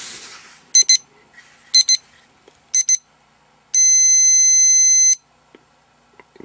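A poker tournament blinds timer gives three short double beeps at even intervals, then one long steady electronic tone, close and clear against near silence.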